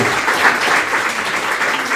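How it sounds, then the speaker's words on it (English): Sustained crowd applause at a national political convention, dense and steady clapping from a large audience honoring regional speakers, filling the full stretch without pause. "Let's give the southern region a round of applause for Comrades Jamie, Blaze, and KC."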